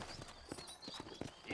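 Hooves of a horse clip-clop in a steady, quiet rhythm in a Western game, several evenly spaced strikes alone without talk.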